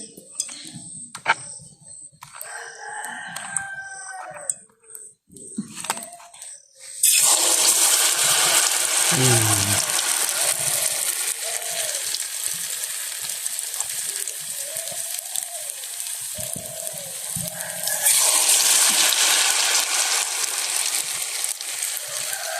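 Sweet chickpea sugiyam dropping into hot oil in a small village kitchen pan, quiet clatter and handling at first, then a loud, steady bubbling sizzle that swells again near the end.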